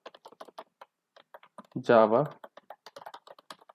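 Typing on a computer keyboard into the Windows command prompt, a series of close, crisp key clicks in quick bursts, briefly interrupted by a voice in the middle.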